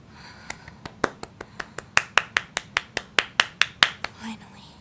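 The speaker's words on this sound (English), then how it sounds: "Clap. Everyone clap." A quick run of about twenty sharp hand claps, steady and close, gets slightly louder toward the middle before trailing off.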